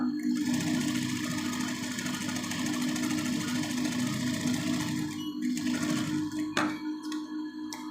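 A sewing machine fitted with a gathering foot stitches cloth in a continuous close, loud mechanical whir, with a brief pause and a couple of clacks near the end.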